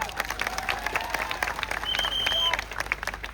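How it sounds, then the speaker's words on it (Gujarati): A crowd claps for Arvind Kejriwal's arrival at an Aam Aadmi Party event, with dense, sustained applause and scattered whistles over the short stretch. "એકવાર જોરથી તાળીઓ વધાવી લઈએ એમને"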